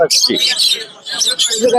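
Caged cockatiels and other birds chirp and tweet at the crowded Mirpur 1 bird market in Dhaka, a loud close burst of repeated shrill calls with brief pauses between them.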